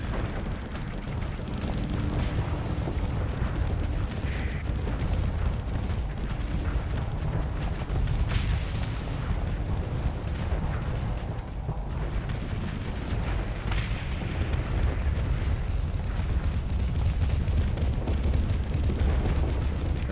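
Nova Cannon artillery fire rumbles through a Starsector space battle, a dense, continuous barrage of deep booms and blasts at steady loudness for the full stretch, with no voices.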